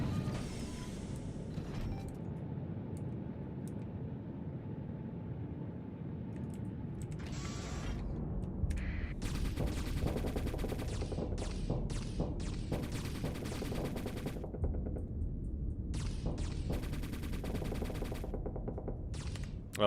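Semi-automatic weapons firing in the space combat game Starsector, dense rapid bursts of shots with mechanical clatter, steady and continuous through the scene, no voices.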